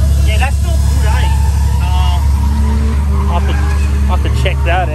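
A Ford AU sedan drifts with its engine droning low and loud while the tyres squeal and skid, and someone talks continuously over the car noise.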